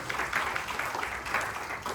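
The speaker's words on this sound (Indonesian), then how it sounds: "beri tepuk tangan yang meriah bagi Allah kita" A church congregation at a worship service claps in a thick, continuous wash of applause, loud and close, with no clear speech over it.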